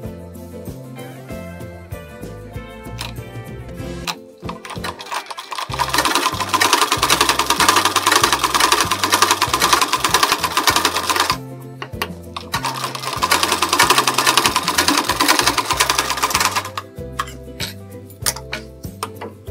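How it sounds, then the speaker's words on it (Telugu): A sewing machine runs a stitch along the folded edge of a blouse, two long loud bursts of rapid mechanical stitching separated by a short pause, with quieter clicking and handling between runs. "ఈ చివరన ఒక స్టిచ్ వేసుకోవాలి"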